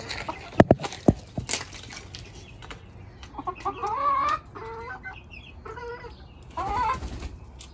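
Backyard garden chickens cluck and squawk at dawn, a few sharp close calls early, then repeated warbling clucks rising and falling, moderately loud against a quiet background with no talking.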